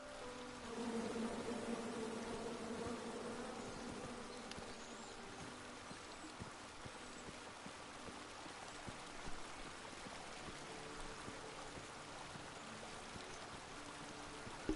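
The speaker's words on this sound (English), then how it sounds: "Come at me, bees!" Bees buzz in the King's Quest video game, a dense, steady droning hum that swells briefly at the start and then holds evenly, with faint ticks scattered through it and no talking.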